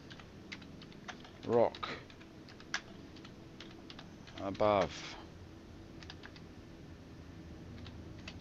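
Someone types on a computer keyboard while playing Star Citizen, a run of light, irregular key clicks heard close and faint throughout, interrupted twice by short bursts of someone speaking.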